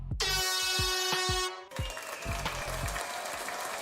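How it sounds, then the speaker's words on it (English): A loud air horn sound effect blasts for over a second, then cuts off into crowd-like applause and cheering, with thumping beats running underneath. "Air horn to you in the VIP."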